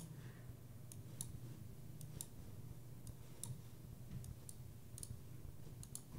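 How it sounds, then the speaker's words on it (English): A computer mouse clicks in faint, sharp single taps at irregular intervals over a low steady hum, with no voices. "all I'm doing is just clicking here"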